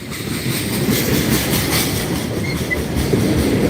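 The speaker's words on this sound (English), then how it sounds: "So he's bringing the slack to the back of the train." Norfolk Southern freight train with tank cars rolling past as slack runs back through the cars, a loud steady rumble with clanking couplers and faint wheel squeal, no voices.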